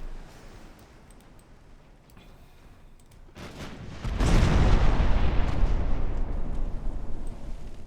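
Warship guns firing in the naval game Ultimate Admiral Dreadnoughts, including 1.1 inch guns on the battlecruiser Warspite, swell from a quiet start into a sustained, heavy booming rumble of overlapping blasts.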